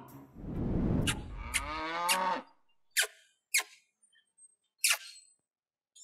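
A long, low moo from a buffalo, followed by a few short, sharp squeaky calls scattered in otherwise quiet surroundings.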